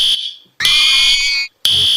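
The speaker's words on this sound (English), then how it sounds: "before the fire alarm goes off" Loud, piercing electronic fire alarm blaring in repeated bursts with brief gaps of silence between them, during a fire drill.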